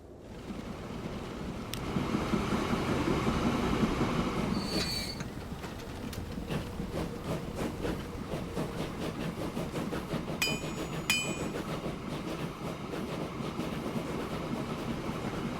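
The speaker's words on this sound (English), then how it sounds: "First train is rolling down the line." A train in the video game Transport Fever 2 rumbles steadily along the tracks, with rhythmic wheel clatter and a few sharp metallic squeals, louder at first then settling into an even roll.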